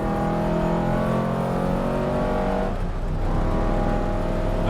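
A McLaren Speedtail hypercar on a race track, its engine note loud and close and holding a steady drone throughout, briefly dipping near the middle before building again.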